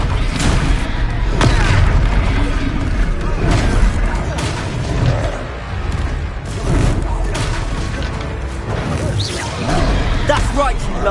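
Confringo fire spells blasting in Hogwarts Legacy, with repeated loud booming explosions and crashes throughout a hectic magical battle, layered under shouted spell names and combat voices.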